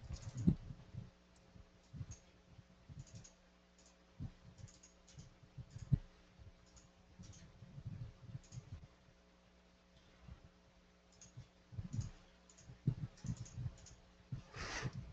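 Typing a credit card number on a computer keyboard in a quiet office setting, producing irregular bursts of soft, close key clicks spread across the whole stretch, with short pauses between runs and a faint steady hum underneath.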